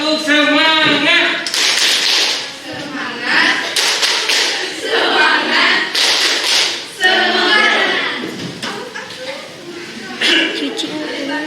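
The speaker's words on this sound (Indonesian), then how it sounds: "coba kalian tepuk semangat dulu" A school class performing the 'tepuk semangat' spirit clapping routine, sharp bursts of group clapping between rhythmic chanted voices, close and lively.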